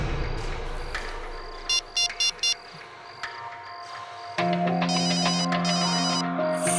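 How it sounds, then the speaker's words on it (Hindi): A mobile phone ringtone sounds near a bridge: a few short electronic tone bursts, then a louder continuous ringing melody over background rumble. "फोन यहाँ आसपास ही बज रहा है।"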